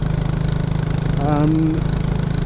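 A Royal Enfield Classic 350 single-cylinder engine thumps steadily while riding, loud and close with a fast regular pulse, and a brief rising whine overlaps it midway through.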